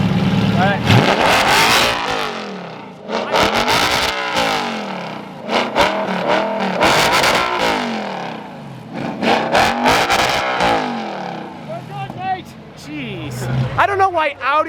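An Audi R8 V8 engine revs hard in repeated bursts, each roar climbing in pitch and falling away, loud and close, with brief pauses between.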